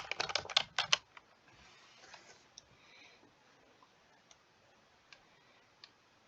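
A quick burst of computer keyboard typing while entering text in Design Space: rapid, close key clicks for about a second, then a few sparse, fainter taps in near-silence.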